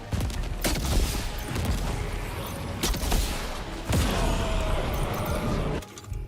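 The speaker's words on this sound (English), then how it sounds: "this rocket launcher is doing a number" Rocket launcher blasts and explosions in the video game Death Stranding 2, a dense run of loud booms and crashes with several sharp hits, nearly continuous, with no voices.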